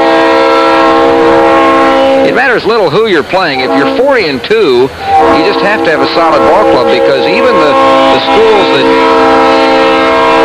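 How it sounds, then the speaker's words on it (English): A train passes near a college baseball game between Texas and Texas A&M, its loud sustained horn blaring in rising and falling wavering tones, with a constant rumble beneath a commentator talking over it. "that's the train making all that noise"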